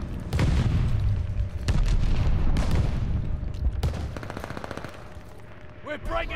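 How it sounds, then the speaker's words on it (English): Enemy glide bombs burst in Call of Duty: Vanguard, sending loud heavy booms and rattling gunfire close by in quick succession, with a short voice sound near the end. "Got enemy glide bombs on the way."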